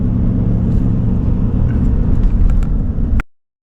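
An RV drives along a road near Lake Havasu, its steady engine and tire rumble loud and continuous before cutting off abruptly near the end.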